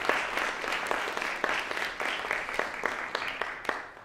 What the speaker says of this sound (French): que je vous demande donc d'applaudir